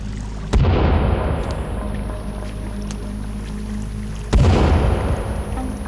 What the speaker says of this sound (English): Let's try a bomb.